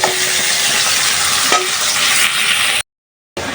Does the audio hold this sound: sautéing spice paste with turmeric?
yes